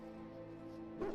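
A war hound gives a single short, faint bark near the end in a Dragon Age game, set over a quiet, sustained musical background.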